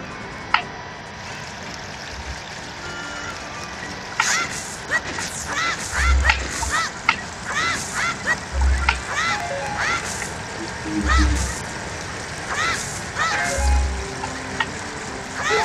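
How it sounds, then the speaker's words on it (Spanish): Zora's River in the video game The Legend of Zelda: Ocarina of Time flows as a steady hiss of rushing water beneath a chiming game melody, with short low thumps recurring at intervals. "Ese es, efectivamente es el río Zora."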